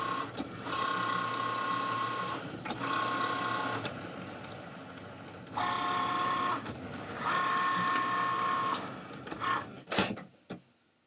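A Cricut Maker cutting machine cuts a printed envelope, its carriage whirring and buzzing in repeated bursts with a steady high motor whine, pausing briefly between passes and ending with a few clicks and a louder clunk.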